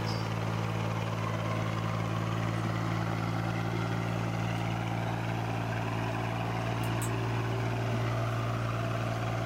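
A vintage Porsche tractor engine running steadily, a low continuous droning hum with a constant rumble and no variation in pace, heard alone without speech.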